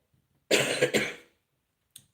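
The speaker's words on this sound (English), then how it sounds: "as well as having this lingering cough still" A single rough cough close by, followed after a short pause by a faint brief throat sound.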